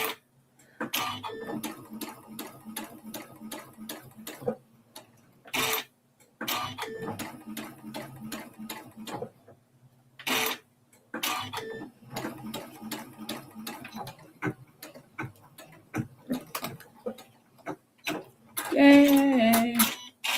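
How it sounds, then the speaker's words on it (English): A sewing machine starts from a foot pedal and stitches in several short bursts with pauses between, each run a fast rattling, near and clear, with a louder clatter at the end. "as soon as I hit it, my needle drops and starts sewing"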